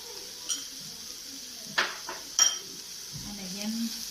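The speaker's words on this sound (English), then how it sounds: "And again I'm going to mix it well." Spoon scraping and clinking against a bowl while vegetable momo filling is mixed, a few sharp metallic taps and scrapes spaced apart over quiet kitchen background, with a brief voice near the end.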